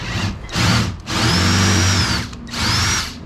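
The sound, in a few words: power drill drilling out rivets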